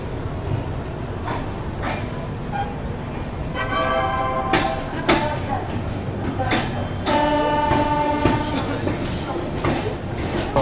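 The Rajdhani Express pulls out of Gwalior Junction with a continuous rolling rumble, rhythmic clicks from the track, and a few brief squealing tones from the wheels. Background voices can be heard faintly underneath.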